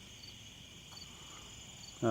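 Crickets chirp outdoors at night in a faint, steady high trill that holds throughout, before a voice cuts in at the very end.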